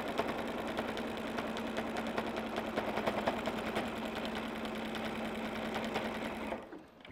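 A sewing machine runs steadily, stitching a wide zigzag along a bag seam, with a fast, even mechanical whir heard close up that continues for several seconds before stopping near the end.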